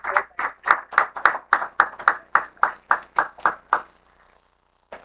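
Audience applause for a guest at a formal felicitation event, a run of about fourteen distinct, evenly spaced claps, crisp and fairly close, ending abruptly with a lone clap after a short pause.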